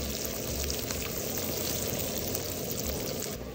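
Garlic frying in butter, a dense, steady sizzle and crackle held throughout at moderate level, close up with no pauses.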